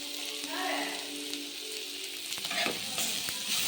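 Onions and green chillies frying in oil, a soft, close, steady sizzle with light crackling that grows busier toward the end.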